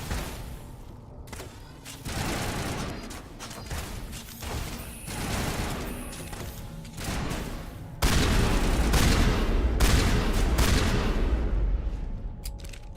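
Dense video game gunfire from a firefight, sustained bursts and booming shots filling the whole stretch, growing louder and heavier near the end.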